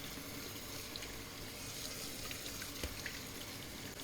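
Cold water runs steadily from a kitchen tap over tenderstem broccoli in a sink, a constant close splashing hiss that continues without pause.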